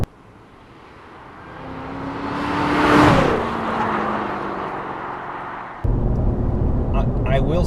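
A 2016 Cadillac CTS-V engine revs up to a rising whine, peaks, then holds a loud steady roar before dropping into a heavier rumble.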